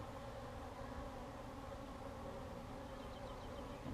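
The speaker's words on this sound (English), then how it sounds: "clearly there are lots of aggressive bees." Aggressive honey bees swarm during a hive inspection, a continuous faint buzzing drone from many insects with no pauses.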